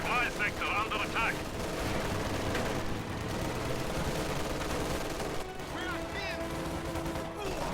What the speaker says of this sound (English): This MG will force a retreat from that shock troop squad, though.